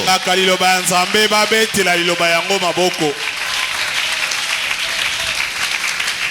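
A church congregation acclaims loudly, with sustained raised voices ringing out for about three seconds before breaking into a dense, loud wash of clapping and crowd noise that carries on to the end.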